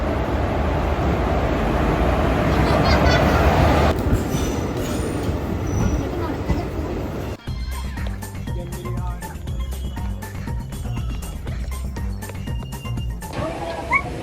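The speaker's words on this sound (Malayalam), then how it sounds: "ട്രെയിൻ വരുന്നുണ്ട്." A train pulls into Varkala station with a loud, broad rumble that later turns into a rhythmic clatter of wheels and carriages, with some squealing, close by and under scattered background noise.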